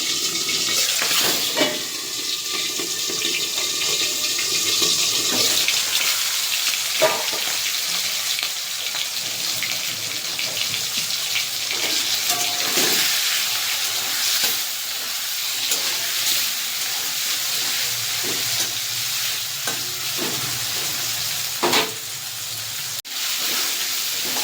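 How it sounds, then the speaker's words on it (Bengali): Salted, turmeric-coated shrimp fry in hot oil in a wok, giving a steady loud sizzle with occasional stirring scrapes and pops that carries on without pause. "তেল নিজে গরম হয়ে গেছে, দিয়ে দেব নুন হলুদ মাখিয়ে নেওয়া চিংড়ি মাছ। ভেজে নেব চিংড়ি মাছগুলোকে তো হালকা করে।"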